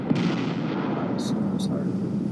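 Cannon fire in a live-streamed video game, a dense sustained roar and rumble of battle noise with a short bright crack near the start and two brief high bursts later, under a busy game soundscape.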